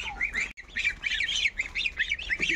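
Birds squawking and calling near and loud in a rapid burst of overlapping cries, fitting ducks and chickens being let out of their pen in the morning at a home poultry yard.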